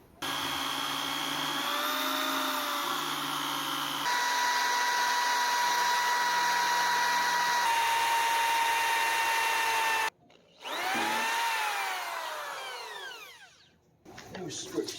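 Power drill with a larger bit whirring steadily at close range on a crystal radio build, its pitch shifting as the load changes, then a brief stop and a spin back up.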